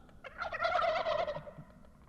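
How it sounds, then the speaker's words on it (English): Wild turkeys in South Dakota give one loud, rattling gobble lasting about a second, heard clearly at moderate distance with no other sound around it. "So y'all take a look at the turkeys in South Dakota."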